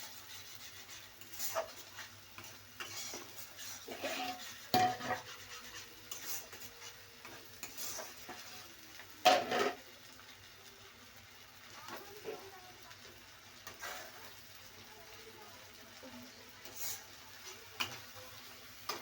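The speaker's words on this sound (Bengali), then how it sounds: "চিংড়ি মাছটা এই লাল লাল হয়ে ভেজে এসছে প্রায়" Prawns frying in oil in a pan give a faint, steady sizzle, broken by occasional spatula scrapes and stirring knocks, with soft speech now and then.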